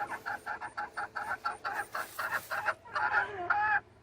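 Frizzle Cochin and Silkie chickens cluck close by in a quick run of about a dozen short, evenly spaced calls, then break into longer warbling, rising notes.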